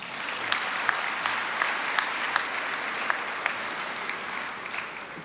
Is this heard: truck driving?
no